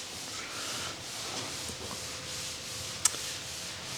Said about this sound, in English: A lot of wet sanding.